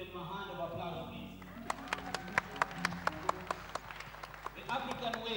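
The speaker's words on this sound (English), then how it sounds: "now let's give them a hand of applause, please." Audience at a Kenya trade week exposition giving a hand, a sparse set of sharp individual claps in an uneven rhythm over talking voices and background murmur, moderately close but thin rather than a full crowd ovation.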